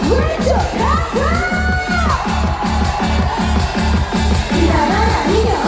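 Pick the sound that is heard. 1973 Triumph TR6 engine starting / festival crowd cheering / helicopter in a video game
festival crowd cheering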